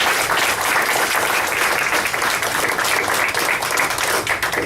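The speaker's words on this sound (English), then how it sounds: "please give them a round of applause." Loud, dense applause from a town hall meeting audience in Floresville, a steady wash of many hands clapping together for nearly five seconds with no talking over it.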